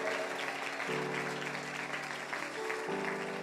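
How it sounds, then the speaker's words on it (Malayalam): An audience in a church claps during a pastor's sermon. A continuous wash of applause sits over steady sustained keyboard tones that shift note partway through. "ഇത്രയും പേര് കൈയടിച്ച സ്ഥിതിക്ക് ബാക്കിയുള്ളവരും കൂടെ ചേർന്നൊന്ന് കൈയടിച്ചാട്ടെ"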